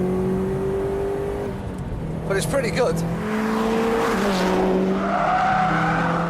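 Litchfield-modified Subaru Impreza Type 25 engine pulling hard in fourth gear from about 3,000 rpm on an open road, a steady loud drone that rises in pitch, with someone talking over it in the car.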